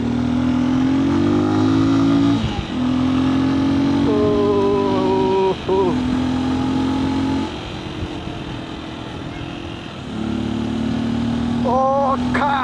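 A motorcycle engine revs and roars loudly and up close through most of the stretch, with pitch rising in surges and short dips between throttle blips.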